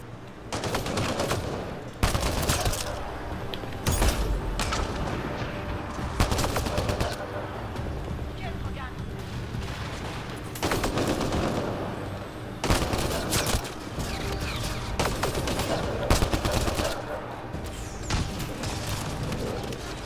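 Sci-fi gunfire from the video game Mass Effect Andromeda comes in loud rapid bursts of automatic shots and sharp single blasts, broken by brief lulls, with game voices speaking in French between the volleys.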